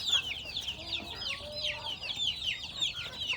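Rhode Island Red hen and her newly hatched chicks, with rapid high peeping from the chicks and a few soft low clucks from the hen, close and fairly quiet.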